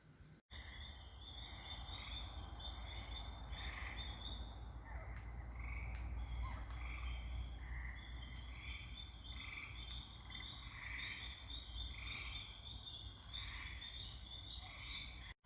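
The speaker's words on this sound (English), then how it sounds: "And the green frogs usually sing all summer long too." Green frogs croak in a summer pond chorus at Pine Hollow, repeated pulsing calls layered over a steady insect hum, fairly distant and continuous throughout.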